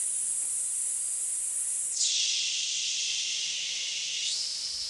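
A long, forceful exhale blown out through the lips, a steady bright hiss held for several seconds with a slight shift partway through, close and alone without talk.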